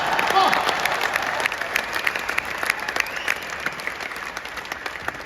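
A crowd claps loudly in a large pavilion at a kavi sammelan in Raipur, a dense burst of applause that stays fairly steady and then thins slightly toward the end.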